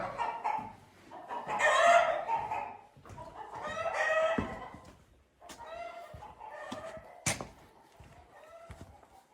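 Chickens cluck and a rooster crows at a farmhouse near Perugia in Umbria. Bursts of clucking rise and fall, broken by a few sharp calls, all fairly close with quiet gaps between them.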